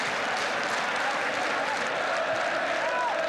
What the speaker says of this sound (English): Chelsea newly motivated now by Osgood's goal and by the crowd